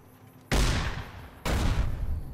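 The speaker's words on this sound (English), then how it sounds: "Take out a giant rat with a grenade launcher." Two heavy booming blasts about a second apart from a grenade launcher fired at a giant rat in Fallout New Vegas, each loud sharp report trailing into a rumbling decay.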